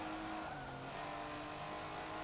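A 1986 BMW M635CSi in Forza Motorsport 7 revs hard and accelerates, its engine a steady, loud drone with rising harmonic tones held throughout, no voices over it.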